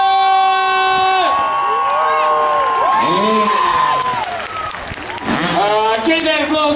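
Crowd at the 2016 Toowoomba Show cheering and applauding an FMX rider's introduction, loud and sustained, with a PA announcer's amplified voice ringing over it.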